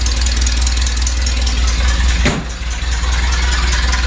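A 1988 Toyota truck's 22RE engine runs steadily and loudly up close on its first drive in years, with the radiator cap off, holding a constant rough drone with a brief dip midway.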